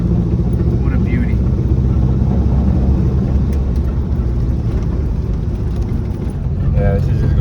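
An old VW Beetle drives along with a steady engine drone and road rumble throughout, loud and close from inside the car, while people talk over it.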